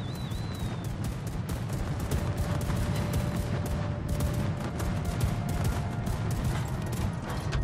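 Anti-aircraft guns on a warship in World of Warships firing in a dense, continuous barrage of rapid overlapping shots, loud and close with booming low rumble throughout, no speech.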